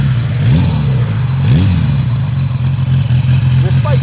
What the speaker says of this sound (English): I just love the stock exhaust note on the Maxim 650.